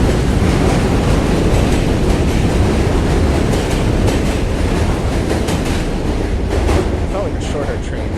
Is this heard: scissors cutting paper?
no